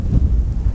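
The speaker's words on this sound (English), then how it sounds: "It's incredibly windy." Low, rumbling buffeting of wind against the microphone, loud and close, in short gusty surges.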